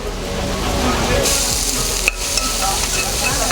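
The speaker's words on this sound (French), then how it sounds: "Là, nous incorporons nos oignons hachés" Finely chopped onions hitting a film of hot oil and frying, a loud close sizzle that runs continuously with a brief stirring clatter partway through.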